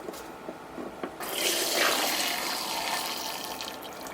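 Water from a pot of cooked chicken is poured into a kitchen sink. A quiet background hum gives way to a sudden rushing, splashing gush that carries on steadily until the end.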